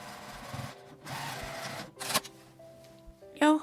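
A sewing machine stitches a fabric cover in short, close, mechanical bursts of rapid whirring, separated by brief pauses and small clicks.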